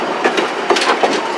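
Train cars roll behind Heisler geared steam locomotive number 6, giving a loud, close, continuous rumble with rhythmic clickety-clack of wheels over rail joints, and no talking.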